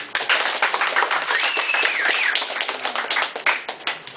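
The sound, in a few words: audience applause for graduates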